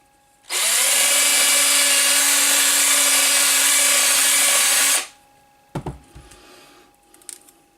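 A power drill whirs steadily at full speed for about four and a half seconds, then stops, followed by a few clunks and handling noises.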